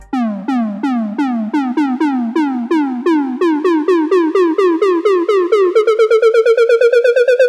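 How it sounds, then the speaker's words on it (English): A synth riser of repeated plucky, bubbly notes that climb steadily in pitch and speed up toward the end, loud and alone. "this is a riser that you might typically hear in something like a progressive house song"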